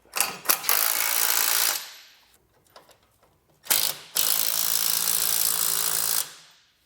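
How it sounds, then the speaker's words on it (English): A ratchet with a 3/4 inch socket snugs down hitch hardware on a 2017 Chevrolet Silverado 1500. It makes two long, loud bursts of rapid clicking, separated by a short pause with a few faint clicks. "We'll come back and snug all of our hardware down using a 3/4 inch socket."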